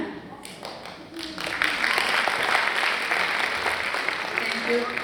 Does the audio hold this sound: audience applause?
yes